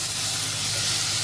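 Tomatoes hit a hot pot of matoke and beef stew with a steady, loud steamy hiss and sizzle that holds evenly through the brief moment.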